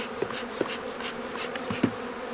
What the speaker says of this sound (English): Try not to crush any of these bees. These are all forager bees.